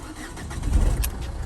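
A Ford Fiesta 1.4 engine cranks and catches, a short low rumble rising to an idle close to the microphone, with faint bird cooing in the background.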